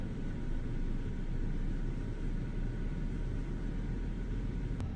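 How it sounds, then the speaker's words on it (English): A steady broadband roar and deep rumble carry on unbroken as engine number two of an IniBuilds A350 starts in Microsoft Flight Simulator, loud and continuous, with no voices. "Get engine 2 started."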